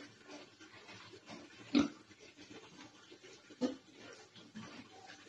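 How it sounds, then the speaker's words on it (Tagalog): A young gilt sow suffering leg pain gives two short, low grunts a couple of seconds apart, fairly close against a quiet farm background with no speech. "So nakita nyo guys, yung baboy ni Ma'am Ronquillo ay namimilay at halatang merong pain, nanginginig"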